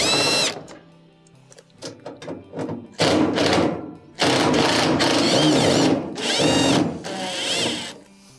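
Power drill backing Phillips screws out of the front panel of a GE dryer, in several short whirring bursts with clicks and thuds between, then longer sustained runs, loud and close.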